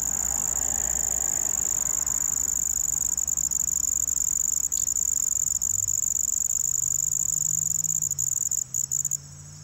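A high, continuous mating trill of a handsome trig cricket (Phyllopalpus pulchellus) on a deck ceiling rings steadily throughout, close and loud, with faint low rumbling beneath and no voices.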